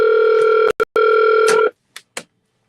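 Phone tones: a loud steady electronic tone broken by two short gaps, then stopping, followed by two faint brief clicks.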